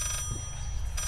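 A telephone ringing inside the horror video game Layers of Fear: two short electronic ring bursts, one at the start and one at the end, over a low ambient hum.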